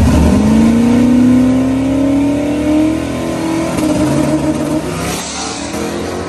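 Turbocharged 102mm 5.3 V8 on a Holley EFI setup revving hard on the transbrake, a loud rising engine note that climbs steadily as boost builds, then holds at high revs with a slight dip near the end, no voices.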